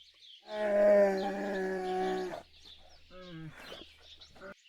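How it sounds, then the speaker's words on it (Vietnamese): A bear gives one loud, deep, drawn-out roar lasting nearly two seconds, followed by fainter grunts and short calls over a low steady hum. "Bear."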